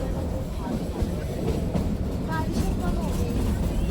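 A small toy train runs on the Shimla hill line in July, rumbling and rattling steadily with a dense, continuous roar heard from inside a carriage.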